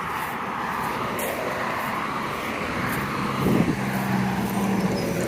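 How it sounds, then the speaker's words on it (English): Road traffic hums at a moderate distance as a car passes by, a steady broad rumble with a slight swell midway and no voices. "I hate car sounds too."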